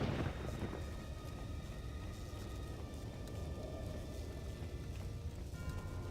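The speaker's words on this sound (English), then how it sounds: "Lightning, thunder," Thunder on Malachor V in the game Star Wars: KOTOR II The Sith Lords, a low continuous rumble with rolling storm texture throughout, quiet and distant-sounding with no voices.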